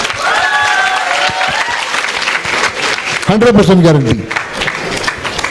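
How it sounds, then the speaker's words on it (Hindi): Audience applause fills a live conversation event with Bollywood actors, a dense steady clapping crowd under someone speaking over it. "अगर आप ऐसी तालियां बजाएंगे, हमको, हमारे फिल्म को सराहेंगे"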